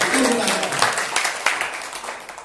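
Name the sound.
applause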